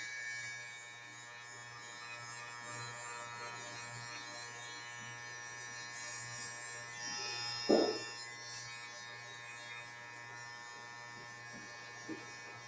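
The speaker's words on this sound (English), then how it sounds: "I'm doing a clipper cut all over" Electric hair clippers buzz steadily and fairly faintly while cutting a man's hair all over, with a brief louder rustle partway through.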